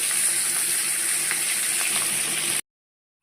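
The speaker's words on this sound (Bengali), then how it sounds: "তো তেলটা গরম হয়ে গেছে এবার মাছের মাথাগুলো আমি ছেড়ে দিচ্ছি" Fish heads coated in salt and turmeric frying in hot oil, a steady close sizzle with faint crackles that runs for about two and a half seconds, then cuts to silence.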